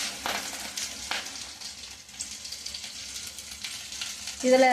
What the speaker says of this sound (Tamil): இதை எண்ணெயில் நல்லா வதக்கலாங்க.